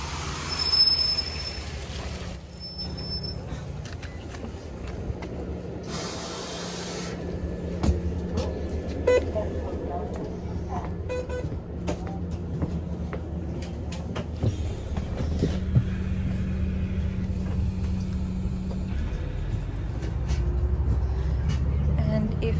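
A city bus pulling up at a stop in Stockholm, with engine rumble, a brief air-brake hiss and rattling street noise rising and falling over a steady low drone; a voice speaks faintly in the background.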